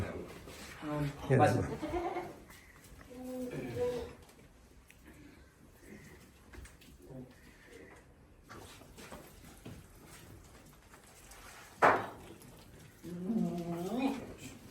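Goats bleat on a farm among sheep, several wavering calls at moderate distance, some overlapping with people talking nearby.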